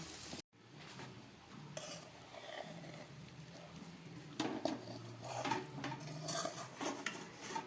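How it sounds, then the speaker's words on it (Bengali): Metal clinks and clatters of a pan and lid while chicken fry with potatoes cooks, with soft sizzling underneath and a few sharper knocks as the lid goes on. "গ্যাসটা বন্ধ করে ঢাকা দিয়ে দিলাম।"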